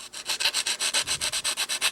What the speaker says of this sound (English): having these rolls and sanding tools and all this little stuff, it really comes in handy